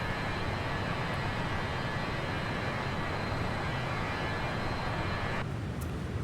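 An MD-82 jet in Microsoft Flight Simulator holds a steady, loud engine roar and broadband rush throughout, with a slight change in tone near the end.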